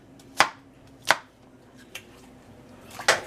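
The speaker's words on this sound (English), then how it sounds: "You could either slice them really thin, or you can cut them up, chop them." A knife chops Granny Smith apples on a cutting board in four sharp, separate strikes spaced unevenly over a few seconds, close by and with no talking.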